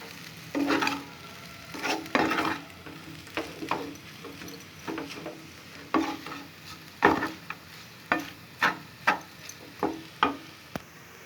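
Chicken noodles get stirred in a hot pan, a spatula scraping and tapping in a loose repeated rhythm of distinct strokes over a soft background sizzle, close and alone without speech.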